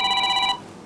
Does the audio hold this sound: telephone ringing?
yes